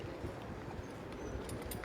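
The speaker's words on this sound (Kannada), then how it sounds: "ಎಷ್ಟು ಚೆನ್ನಾಗಿದೆ ಬಿಳಿ ಕುದುರೆ" A white horse's hooves clip-clop in a steady walking rhythm, close by and moderately loud, with no talking over them.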